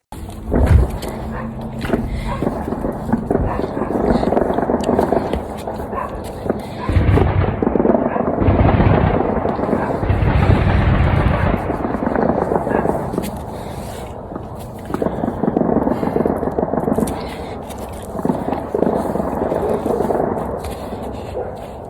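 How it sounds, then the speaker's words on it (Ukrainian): Air defence fire shooting down Shahed drones rumbles outdoors during garden planting, a long stretch of heavy, loud booms and rolling thuds that rise and fall over continuous noise. "Я спочатку не зрозуміла, що це шахеди збивають."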